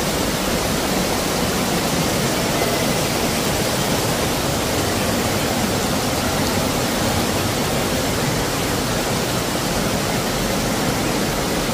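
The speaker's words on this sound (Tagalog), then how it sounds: "Ito na ang waterfalls." Anthurium Falls in Famy, Laguna roars as a steady, dense rush of falling water, loud and close, with no break or voices across the whole stretch.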